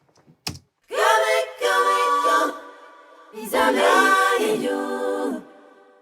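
Vocal phrases drenched in heavy reverb, the sound washing and lingering between lines; a short click opens, then two long, sustained passages.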